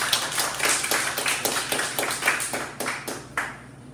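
Scattered hand clapping from a small audience at a spoken-word poetry event, a run of uneven claps that thins out toward the end with no one talking.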